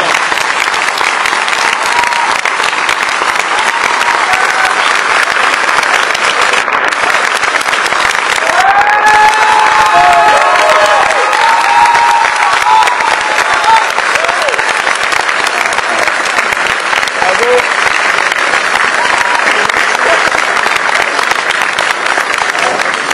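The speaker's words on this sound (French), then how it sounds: "Vous pouvez l'applaudir très fort." A large audience at a film screening and debate applauds loudly and continuously to welcome the film's director, a dense, sustained roar of clapping with faint voices and cheers mixed in.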